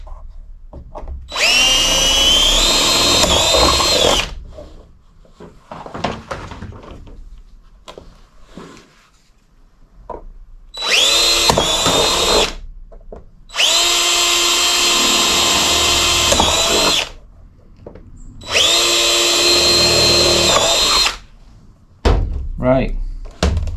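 A power drill bores into parts during mods on a Royal Enfield Classic 350 motorcycle, loud whining bursts of several seconds each, separated by pauses with quieter handling noises.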